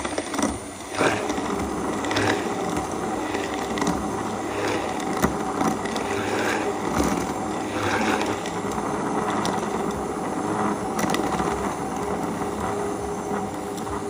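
A Vitamix immersion stick blender runs continuously nearby with a steady motor hum and rattling, churning texture, the blade shifting pitch slightly as it works through the mix.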